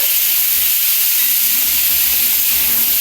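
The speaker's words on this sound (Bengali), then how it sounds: "উচ্ছে আলুটা আমি তেলের মধ্যে দিয়ে দিচ্ছি" Bitter gourd and potato pieces sizzle in hot oil in a pan, a loud, close, continuous hissing fry with faint stirring bumps underneath.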